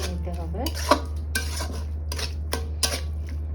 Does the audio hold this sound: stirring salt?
yes